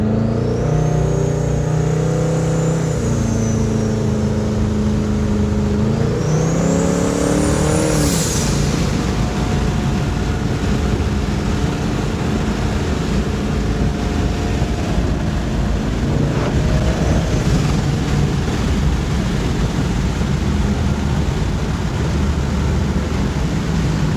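A Ford Mustang S550 fitted with an On3 top mount twin turbo kit drives steadily, a loud continuous engine drone with shifting tones as it moves in and out of boost, plus wind noise and no talk.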